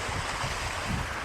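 A budget mountain bike rides through a shallow waterfall river crossing on a downhill trail in Chiang Mai, and a continuous rushing wash of water and splashing fills the whole moment, close and loud.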